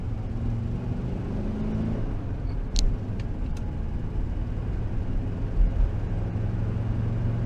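A VW T2 bus engine drones steadily while the vehicle drives, a continuous low rumble and whir with a couple of brief higher clicks partway through and no voices.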